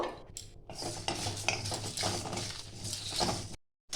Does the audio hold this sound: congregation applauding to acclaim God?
no